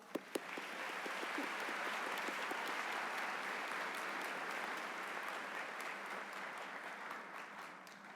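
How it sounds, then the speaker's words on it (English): An audience at a Worthington Kilbourne High School commencement ceremony breaks into sustained applause after a couple of sharp opening claps. The dense clapping holds steady and full for several seconds before easing slightly. "Let's give them a round of applause."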